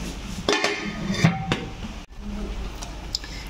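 A lid is set back onto a pot of cooking khichuri with clanking metal knocks and clinks, a couple of sharp hits then a quieter rattle, close and fairly loud.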